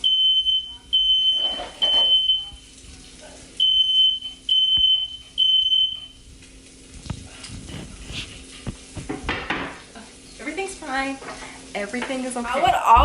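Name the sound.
smoke alarm going off while cooking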